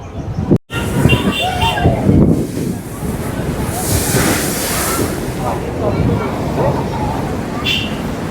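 Water roars steadily through the opened gates of the Nagarjunasagar dam, a dense, continuous rush with gusts of wind buffeting the microphone and a brief dropout near the start.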